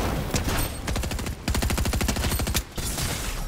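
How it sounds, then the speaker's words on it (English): Rapid, loud SMG fire in a Fortnite match, sounding as dense repeated bursts of shots with only brief pauses between them. "Maybe it was just because I was using the SMG, but I could not control my recoil right there."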